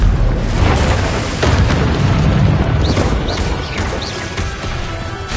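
Confringo explosion spell cast in a Hogwarts video game: a sustained, loud booming blast with crackling debris and sparkling magical chimes layered over it, continuing for several seconds.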